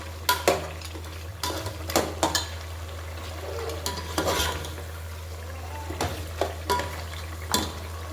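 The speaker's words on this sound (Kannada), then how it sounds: "ಇವಾಗ ನಾನು ಮಟನ್ನೆಲ್ಲ ಸೋಸಿಟ್ಕೊಂಡಿದ್ದಲ್ಲ ಅದನ್ನು ಹಾಕ್ಕೊಳ್ತೀನಿ." Strained mutton is stirred in hot oil in a pot for mutton biryani, with repeated sharp scraping and clanking strokes of a spoon over a low sizzle and steady background hum.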